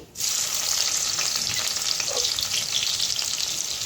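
Dried red chilies and chopped onion drop into hot oil for chili chicken, bursting into a loud, continuous frying hiss that holds steady after a sudden start, with faint stirring and no speech.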